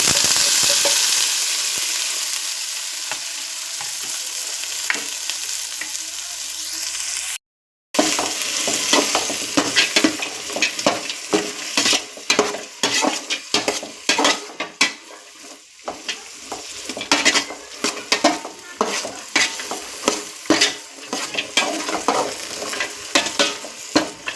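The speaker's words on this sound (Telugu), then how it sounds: "సో ఇది నేను ఇప్పుడు ఆయిల్లో ఫ్రై చేస్తాను" Veldt grape (nalleru) and curry leaves fry in hot oil, a continuous crackling sizzle broken by a brief silence, then repeated scraping stirs against the pan that come in uneven bursts over the steady frying.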